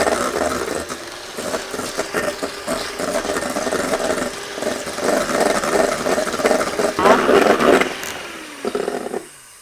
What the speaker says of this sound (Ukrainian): Додали цукор. І тепер збиваємо прямо до таких стійких піків.